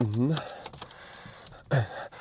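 Car keys jangling with metallic clinks as they are pushed toward the ignition, close and brief, between bursts of someone talking.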